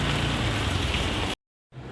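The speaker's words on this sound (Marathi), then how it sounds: "त्याच टायमिंगमध्ये पाऊस आला" Dense, loud rain pours down in a steady roar that cuts off abruptly into silence, then returns more faintly near the end.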